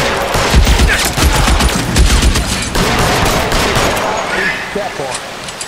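Loud, dense gunfire from a shootout in the video game L.A. Noire, sustained rapid bursts and overlapping shots close up, easing toward the end, with a voice talking over part of it.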